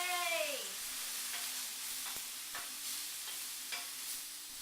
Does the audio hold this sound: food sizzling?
yes